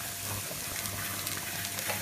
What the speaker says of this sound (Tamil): மிளகாய் வதங்கின அப்புறமா கோஸை போடுங்க. போட்டு நல்லா வதக்கலாம்.